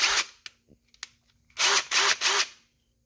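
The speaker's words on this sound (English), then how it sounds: "I'll go ahead and show you my main impact driver. This is my DeWalt DCF887, I believe." A DeWalt DCF887 impact driver with a quarter-inch anvil, heard in short bursts: a brief whir, a few small clicks, then three loud rattling hammering bursts in quick succession, close and with no voices.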